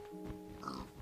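A pig in the Minecraft video game gives a short, quiet oink over soft background game music.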